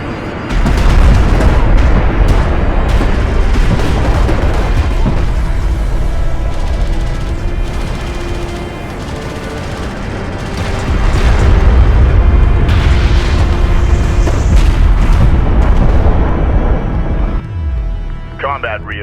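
Dense, continuous gunfire and booming artillery impacts hammer a salvager in Homeworld: Deserts of Kharak, loud and sustained with heavy low rumble throughout and a radio-style voice near the end.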